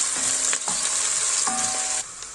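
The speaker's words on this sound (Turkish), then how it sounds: "Şimdi soğanımı ekliyorum. Hafif kokusu gelene kadar, kızarana kadar kavurup unumu ekleyeceğim." Onions sautéing in a pan for Turkish lentil soup give a steady, close sizzle, with a few soft stirring scrapes and faint clicks over the hiss and no talk.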